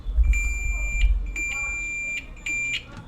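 Several short, high electronic beeps from a multimeter continuity test on gas furnace parts sound in bursts over low rumbling handling noise, close to the microphone.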